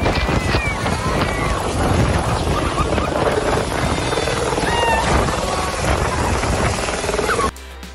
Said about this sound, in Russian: Частный вертолет главы Дагестана накрыл пылью учеников,